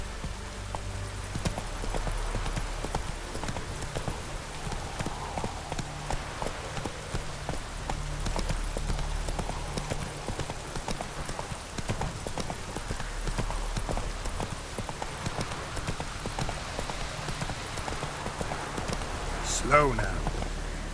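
Roach the horse's hooves clip-clop at a steady walking rhythm through rain in The Witcher 3, close and continuous over the patter of raindrops, while a voice speaks intermittently.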